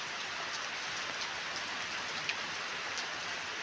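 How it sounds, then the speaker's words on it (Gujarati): Steady rain falls outdoors on a farm in Gujarat, a continuous, even hiss of drops on surfaces with a few faint louder drips, moderately quiet and with no voices. "વરસાદ અત્યારે ચાલુ થઈ ગયો"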